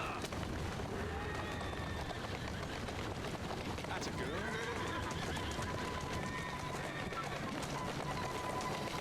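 Horse whinnying amid clopping hooves in the Assassin's Creed Syndicate video game, set against a constant busy background of game noise with a faint voice, at moderate level throughout.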